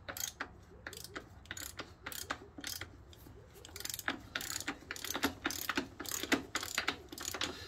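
Rapid, close ratchet socket wrench clicks with a 24 mm socket during rear brake work on a BMW GS 800 Adventure motorcycle, repeated bursts of pawl ticking.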